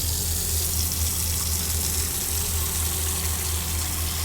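Steady running water filling a container in the video game Autopsy Simulator, a continuous close gushing stream that holds even throughout, with no talk over it.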